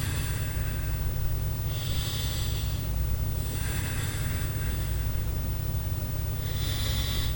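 Slow, audible breaths during a yoga locust pose, with hissing inhales and exhales coming in soft, regular waves over a steady low hum.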